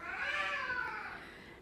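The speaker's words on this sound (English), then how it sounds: "if you hear my cat meowing" An older pet cat gives one long drawn-out meow with a rising then falling tone, close and clear against a quiet room.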